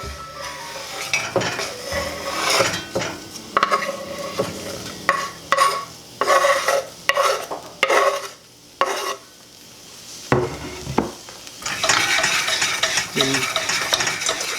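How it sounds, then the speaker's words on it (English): Onions, spices and browning sesame seeds stirred in a pan for a Middle Eastern side dish, with steady sizzling frying under repeated scraping strokes and light clinks of a utensil against the pan, close and fairly loud, no talking. "Mix that up so the spices attach to the onion and don't stay at the bottom and burn"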